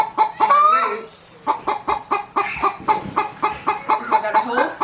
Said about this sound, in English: we're just going to talk over the chicken